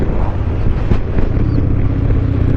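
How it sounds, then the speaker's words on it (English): A Harley-Davidson motorcycle engine hums under a steady roar of wind buffeting the microphone while riding with a cracked windscreen, loud and continuous with no talk. "You can probably hear the motor, you can hear the wind."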